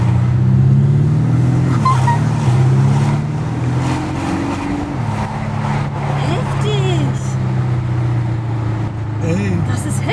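A car fitted with an exhaust sound system revs up and down nearby, its loud engine note rising and falling over several bursts while voices talk over it.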